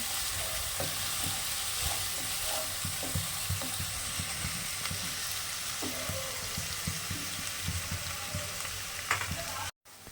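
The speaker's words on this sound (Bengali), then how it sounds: "এটাও হালকা করে ভেজে নেব" Steady frying sizzle of katla fish in a pan, with frequent scraping and stirring clatters, continuous and close throughout, no voices.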